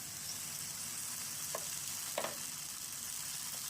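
Tomatoes going into a hot pan while cooking aloo paratha filling in a home kitchen, giving a steady broadband sizzle with two brief louder bursts of crackle as they land, close and continuous with no talking.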